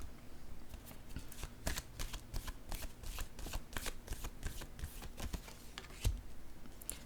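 Playing cards handled and drawn from a deck, a close run of quick, crisp papery snaps and flicks over about seven seconds, with one sharper slap near the end.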